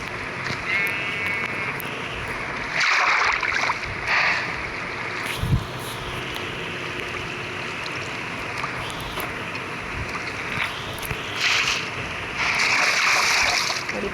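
Water in the Minecraft video game splashes and washes in uneven bursts of rushing, surf-like noise over a constant watery background, some bursts louder and closer than others, with no speech.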